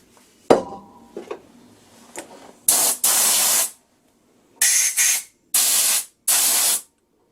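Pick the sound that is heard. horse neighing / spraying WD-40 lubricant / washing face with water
spraying WD-40 lubricant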